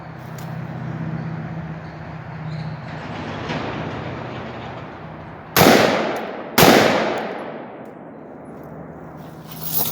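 Two rifle shots fired at long-range targets from 300 to 500 yards, loud sharp cracks about a second apart with brief ringing decay, over a low rumbling background.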